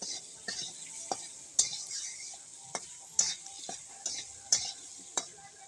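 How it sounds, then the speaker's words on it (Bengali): Potatoes frying in oil with turmeric and salt, a soft steady sizzle broken by repeated sharp scrapes and knocks of a spatula stirring in the pan, about a dozen strokes at an uneven rhythm, no voices. "সুন্দর করে লাল লাল করে আলুটা আমি ভেজে নিচ্ছি"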